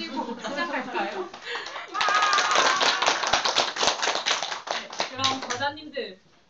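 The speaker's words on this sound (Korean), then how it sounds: "저희 축하의 박수를 한 번 더 치고 시작할까요?" A book-talk audience at a year-end author event claps in celebration: a dense, steady burst of many hands that swells in the middle and fades out, with a woman's speech before and after.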